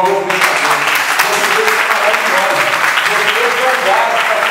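Steady applause from an audience at a public hearing fills the whole stretch, loud and continuous, with a voice briefly audible underneath.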